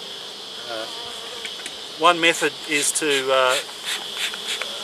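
Bees buzz around a colony in a steady high-pitched drone, with someone talking over it.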